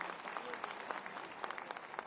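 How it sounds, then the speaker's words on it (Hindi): An audience at an annual conference of a self-financed school managers' association in Lucknow applauds to welcome a guest, a short burst of dense clapping with some crowd murmur. "जोरदार तालियों से माननीय जी का एक बार स्वागत करिए।"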